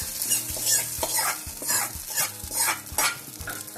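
A pan of cucumber curry stirred vigorously with a spoon, rhythmic scraping strokes about every half second over a continuous close sizzle.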